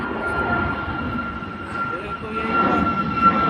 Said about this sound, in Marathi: ओ गायज विमान बघा.